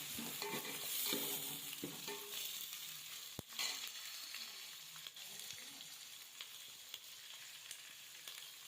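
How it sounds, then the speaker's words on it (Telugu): Onion pieces fry in a pan for Telangana-style chicken curry, with a steady close sizzle and scraping stirs from a spoon, including one sharp knock against the pan partway through, with no talking. "ఉల్లిపాయ ముక్కలు వేయాలి."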